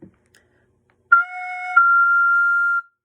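A single clear soprano recorder note, F natural fingered with the thumb half covering the back hole, sounds alone, with a brief higher wobble at first before settling into a steady held tone that stops cleanly.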